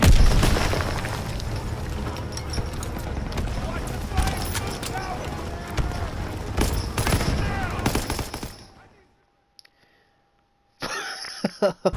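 Gunfire from a World War II shooter game, Call of Duty WWII, with dense loud shots and booming explosions over busy battle noise for about nine seconds, then sudden near silence before a brief burst returns at the end.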